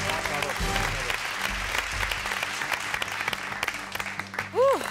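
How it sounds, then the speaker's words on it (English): A semifinal crowd at the Virtuosos V4+ classical music talent competition applauds a contestant, dense sustained clapping filling the hall loudly from start to finish, with a brief voice early on and a short tonal blip near the end. "big applause for Teo!"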